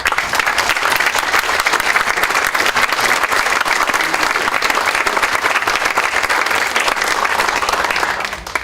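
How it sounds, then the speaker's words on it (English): A warm round of applause from a lecture audience welcoming a speaker on forbidden archaeology, dense steady clapping throughout at close range, fading slightly at the very end. "Let's hear a warm round of applause."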